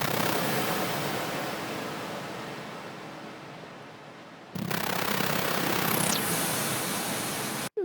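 Reverb tail from the Rob Papen QUAD VST effect plugin, a dense washing hiss that fades, cuts off, then returns as a broad bright wash with a sweeping tone near the end.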